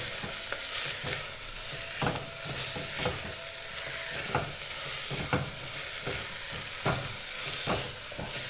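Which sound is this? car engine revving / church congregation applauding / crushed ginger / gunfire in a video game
crushed ginger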